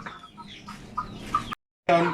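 Native chickens cluck in a series of short, close clucks with brief pauses, then a sudden cut to silence and a loud burst at the end.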